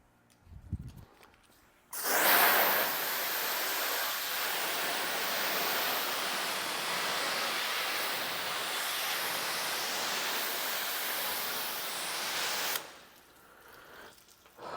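Water sprays steadily onto a car panel, rinsing off Gyeon Q2M Total Remover, a loud continuous hiss that starts abruptly after a brief quiet moment, runs for about eleven seconds, then cuts off.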